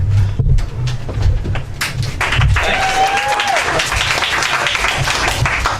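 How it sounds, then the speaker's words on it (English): Applause from the audience at a stand-up comedy competition, many hands clapping continuously at a moderate distance, with scattered voices, a brief whistle and a faint low thumping mixed in. "A lot of applause throughout the whole competition"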